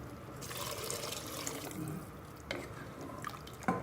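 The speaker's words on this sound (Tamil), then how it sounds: "ரெண்டு டம்ளர் தண்ணி ஊற்றுறேன்" Water splashes and trickles steadily into a cooking pot for a few seconds, with a few clinks near the end.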